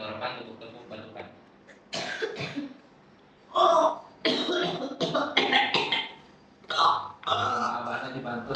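Several harsh coughs and throat-clearing bursts come in separate clusters, close and loud, with spoken voices between them.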